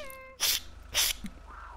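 A big cat in the GTA RP game NoPixel lets out two loud, harsh bursts of growling, close by and roughly half a second apart, with a faint engine-like hum underneath and no talk.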